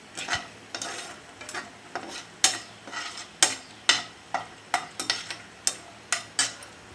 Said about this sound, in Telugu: కొద్దిగా నెయ్యి వేసి జీడిపప్పు, బాదం పప్పు ఇలా వేయించుకోవాలి.